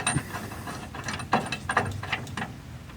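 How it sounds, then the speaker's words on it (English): A nut is tightened on a harvester under repair: a few quiet, separate metallic clicks and ratcheting turns spaced about half a second apart, close by, with no talk. "Try to get this nut all the way down."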